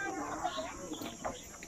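Chickens cluck in short, faint bursts at Hong Kong Wetland Park, with a soft hum of outdoor ambience underneath.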